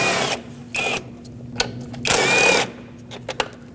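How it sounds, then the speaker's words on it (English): A 10mm socket on a ratchet or power driver removes a bolt and a mounting nut from a relay box on a 2006-2015 Lexus IS250 AWD. Short bursts of whirring and clicking ratchet sounds come up close, with pauses between them. "Use a 10mm socket and remove both the bolt and the mounting nut."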